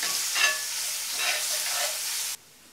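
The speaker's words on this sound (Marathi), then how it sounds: "आलं, लसूण आणि हिरव्या मिरचीचं आपण वाटण केलं होतं तर ते आता यात घालायचं आणि आपण हे छान आता परतून घेऊया" Ginger, garlic and green chilli paste frying in a pan, a bright close sizzle with a few stirring swells, ending suddenly after about two and a half seconds.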